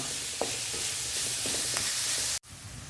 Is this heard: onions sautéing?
yes